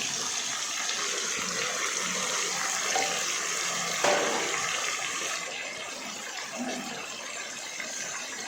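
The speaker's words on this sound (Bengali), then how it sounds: "সামান্য পরিমাণে জল বাটিটাতে গুলে আমরা দিয়ে দিলাম।" Water mixed in a small bowl being poured into a chicken curry in the pot, a steady rushing pour and bubbling that runs throughout at moderate level, with a slight surge midway.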